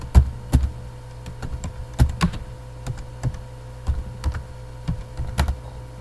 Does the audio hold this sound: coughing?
no